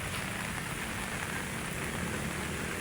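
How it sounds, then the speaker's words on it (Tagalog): Heavy rain falls steadily at Manila Bay, a dense, constant hiss of drops on surfaces that holds an even level throughout, with no voices. "Malakas ang ulan, di ba? Ayan, ang lakas, oh. Lakas ng ulan, oh."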